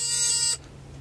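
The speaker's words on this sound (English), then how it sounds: "Get rid of the buzzer here." A buzzer in a 1978 VW Westfalia camper sounds as a loud, steady, harsh tone for about half a second, then cuts off abruptly, leaving a quiet interior hum with no talking.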